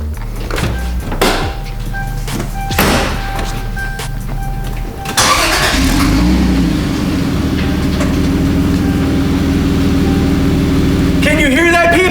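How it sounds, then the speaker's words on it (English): A bone stock Toyota Supra engine cranks after some clicks and rustling, catches and settles into a loud, steady idle nearby, with a brief rev near the end. "Time to start it up, let the people hear the magic of a bone stock Supra"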